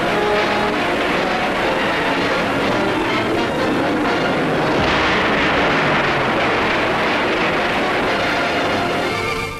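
A V-2 rocket test in 1946 archival footage: a dense, steady roar fills the whole stretch and swells slightly partway through, rough and loud like a rocket motor, with no voices.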